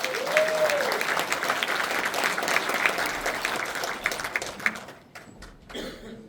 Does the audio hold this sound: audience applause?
yes